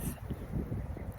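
Strong wind in western South Dakota among pine trees, gusting and buffeting the microphone in a low rumbling roar, close and continuous, with no voice present.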